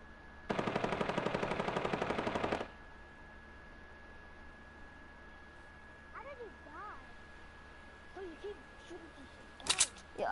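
A rapid burst of automatic gunfire in Fortnite Battle Royale rattles loudly for about two seconds, then fades to quieter game sounds and faint voice-like bits.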